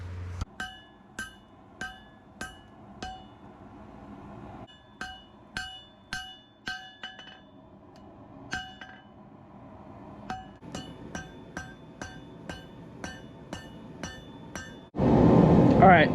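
Repeated hammer blows ring out while hand forging a 51-layer Damascus steel knife, bright metallic strikes in steady bursts with short pauses between groups, ending in a loud rushing blast like a forge blower.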